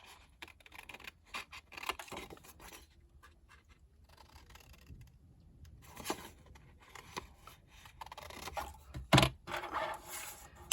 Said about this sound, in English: let me cut away the bits I need to cut away.